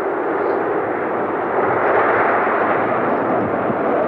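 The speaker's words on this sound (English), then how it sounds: "a mission that started when the solid rocket boosters lit" Space Shuttle Atlantis lifting off on the STS-44 military mission, its solid rocket boosters producing a loud, continuous broadband roar that holds steady and unbroken throughout, with no voices present.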